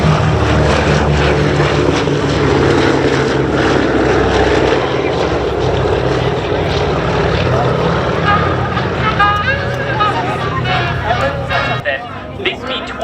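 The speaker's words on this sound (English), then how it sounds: "And now, B-17 Flying Fortress in parade review after its takeoff." A Boeing B-17 Flying Fortress bomber flies past in an air show parade, its propeller engines making a loud, sustained drone with a faint crowd murmur beneath.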